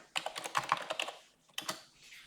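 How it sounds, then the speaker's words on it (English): Quick keystrokes clatter on a computer keyboard while text is entered into a spreadsheet cell, two short close bursts of rapid tapping separated by a brief pause. "Then I want to go and type summary in A1."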